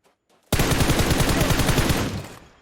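Rapid automatic gunfire in PUBG Mobile, a loud burst of fast, evenly spaced shots lasting about a second and a half after a near-silent start, then fading out.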